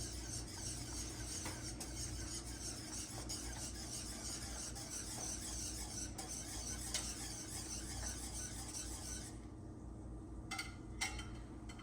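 A spoon swirls simmering water in a pot into a whirlpool for poaching an egg, a steady close churning and bubbling that runs for about nine seconds, followed by a couple of light clinks near the end.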